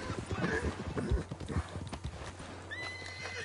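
Hooves clip-clop in a quick rhythm, followed by a loud horse whinny, with Red Dead Online game ambience underneath.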